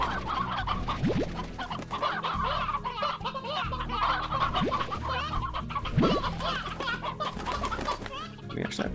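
Hens cluck in the video game Slime Rancher, a busy overlapping chorus of clucks and short squawks running steadily alongside game music, with occasional rising chirps.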